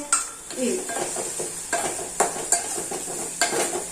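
Green chillies tossed into onions already frying in a pan for a Kathiyavadi fenugreek seed curry, giving a soft steady sizzle broken by repeated stirring scrapes and light utensil clinks, close and without talk.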